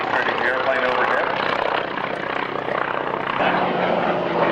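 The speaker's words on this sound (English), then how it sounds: "Demonstrating the airplane overhead." A propeller airplane with a 700 horsepower seven-cylinder air-cooled radial engine drones steadily overhead at an airshow, loud and continuous, with a voice talking over the engine noise.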